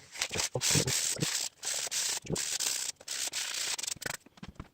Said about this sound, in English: I'm going to go get some sandpaper and sand it